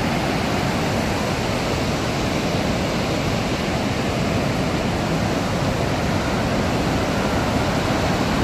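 Glacial meltwater stream rushing between rocks near Upper Kachora, Skardu, a steady, dense, loud broadband roar of flowing water, close and unbroken throughout.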